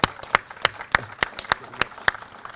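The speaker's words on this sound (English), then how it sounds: "Give him a round of applause." Applause at a fire department ceremony for a new Engine 12, honoring the fire chief: a small group clapping in sparse, crisp, evenly spaced claps, close and clear.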